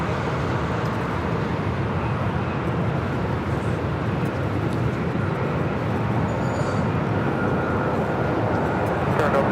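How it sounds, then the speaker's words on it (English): An American Airlines Boeing 737-800 takes off from the south side at LAX, a broad, steady jet roar that holds throughout at fairly even loudness. "Next takeoff here on the south side is American Airlines Flight 475. This is 737-800 heading to Chicago O'Hare."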